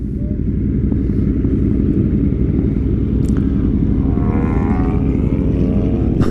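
Aprilia Tuono motorcycle ridden along a gravelly canyon highway, its engine droning steadily and close with heavy wind rush throughout, no talking.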